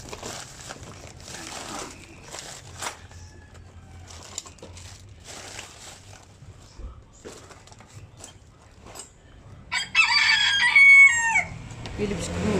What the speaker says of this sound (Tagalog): may dumating ng manok